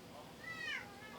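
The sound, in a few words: cat meowing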